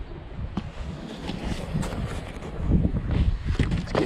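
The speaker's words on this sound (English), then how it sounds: "It's getting windy now." Steady wind buffets the microphone in a desert garden with low rumbling gusts, growing stronger toward the end; no one speaks.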